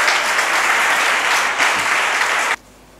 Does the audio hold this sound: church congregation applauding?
yes